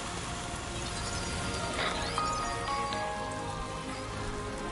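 Steady rain falls in the video game Death Stranding 2, a dense even patter of drops striking surfaces, with faint tonal game ambience running beneath it throughout.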